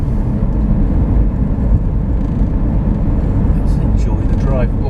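Steady road and cabin drone of a Toyota Prius driving along, a loud continuous low rumble with tyre noise, a voice speaking faintly over it.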